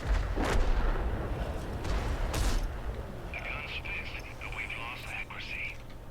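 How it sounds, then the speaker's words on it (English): Distant booms of artillery fire around a T42 tank in a tank battle game, a few heavy thuds under engine rumble, followed by a high warning tone. "Here comes artillery."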